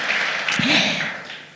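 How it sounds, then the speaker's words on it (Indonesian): Brief burst of congregational applause at a church worship service in Surabaya, a short wash of clapping that fades out within moments. "Tepuk tangan sekali lagi yuk buat Tuhan kita Yesus Kristus"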